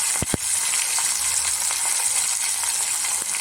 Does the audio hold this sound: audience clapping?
no